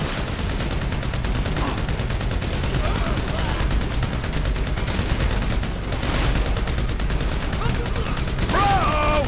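Dense gunfire from Grand Theft Auto V pounds almost without pause, loud, rapid bursts layered over game noise, with voices breaking in now and then.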